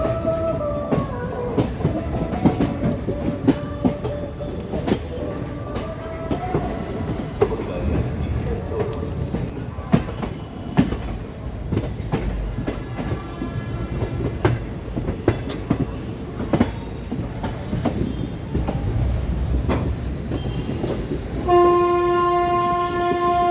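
The Tungabhadra Express runs between Secunderabad and Kurnool, heard from inside a sleeper coach: a steady rumble with rhythmic clicks from the wheels, then a horn sounds near the end.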